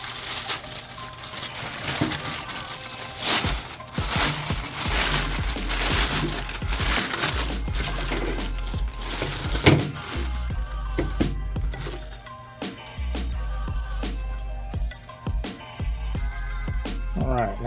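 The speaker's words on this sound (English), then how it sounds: "let's go ahead and get this out of the packaging" Plastic packaging crinkles and crunches as a multi-piece front lip for a Toyota MR2 Spyder is pulled free, with scattered sharp crackles, taps and rustles close by over steady rumbling handling noise.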